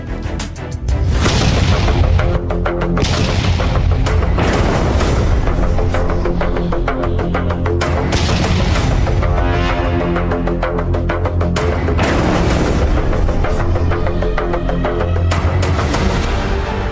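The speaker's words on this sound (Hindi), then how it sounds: "वहां लगातार इतनी बमबारी हो रही है कि लाइव रिपोर्टिंग के दौरान एक हमला कैमरे में कैद हो गया।" Bomb strikes hit during a live news report near the Lebanon–Israel border, with loud, dense booming blasts and rumbling crashes that go on almost without a break for over fifteen seconds.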